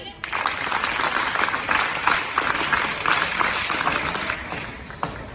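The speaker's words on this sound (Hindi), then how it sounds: "आपके इस जोश के लिए एक बार जोरदार तालियां" A large crowd claps steadily and loudly for several seconds, a dense continuous patter that fades out near the end.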